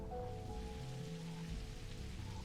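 Rain falls outside in the game Necrobarista, a steady wash of drops on surfaces under low, sustained game music tones, with no voices.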